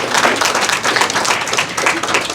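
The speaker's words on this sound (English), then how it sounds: "Give him a round of applause" Applause from a gathered crowd at a Moorish ceremony honoring members with recognition certificates, a dense steady patter of many hands clapping close by for a couple of seconds.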